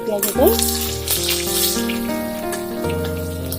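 Chopped onions fry in a pan for upma masala, a steady close sizzle with a few clinks and scrapes near the start.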